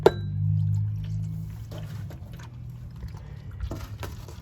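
Engine oil gushes from the drain plug opening of a Jeep Cherokee XJ, starting as a strong close pour and settling into a steadier, thinner trickle into a catch pan.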